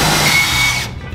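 A power drill whirs steadily at close range into a metal file cabinet being built into a smoker, then cuts off abruptly near the end.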